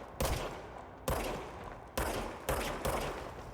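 Gunfire in the video game Control, five heavy broadband shots spaced unevenly over a few seconds, each with a sharp onset and a long reverberant tail that fills the gap before the next.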